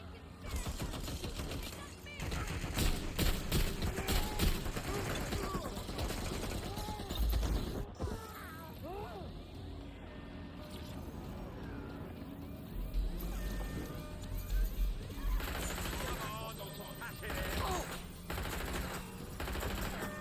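Gunfire in the video game Watch Dogs Legion: repeated bursts of automatic weapon fire and scattered shots keep going throughout, loud and close, mixed with game sounds and brief voices.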